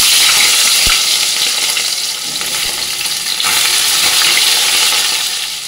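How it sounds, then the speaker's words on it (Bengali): Fish heads fry in hot oil with a steady, loud sizzle and crackle, with a single sharp tap near the start. "এবার মাছের মাথাগুলো এক এক করে আমি ভেজে নেবো"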